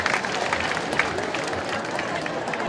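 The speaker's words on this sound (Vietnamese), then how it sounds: "Chúng ta cho nhau một tràng pháo tay thật lớn thật dài để cảm ơn nhau" Applause from a church congregation at a Vietnamese Catholic celebration, a dense steady wash of clapping with crowd noise, held at an even level for the whole stretch.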